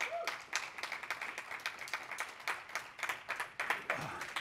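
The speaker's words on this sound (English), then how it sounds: "give him a round of applause real fast" A conference audience in Las Vegas breaks into brisk applause, a dense patter of many hands clapping steadily at moderate distance for several seconds.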